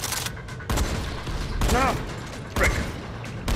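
Shotgun blasts fire in the game Dying Light, several loud bursts amid chaotic action, with someone speaking briefly between shots.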